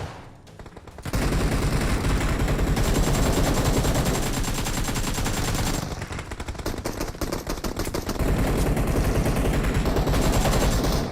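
Gunfire in the BGMI mobile battle royale game: loud, dense automatic bursts that run nearly continuously, with a brief lull midway before the shooting resumes.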